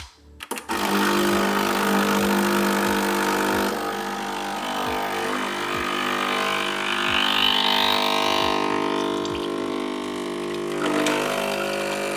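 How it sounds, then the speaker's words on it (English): A Sage Barista Express espresso machine pulls a double shot, its pump droning loud and steady with a rhythmic pulsing buzz that runs for the full stretch after a brief click at the start. "I'm just going to do a double shot now and see what we get this time"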